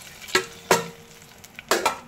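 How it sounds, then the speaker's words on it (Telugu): Hot tempering poured into pappu charu brings three sharp bursts of sizzling and spoon clinks, close and loud, with quieter frying in between and no talking. "ఇప్పుడు ఈ పోపు తీసుకెళ్ళి పప్పు చారులో వేద్దాం"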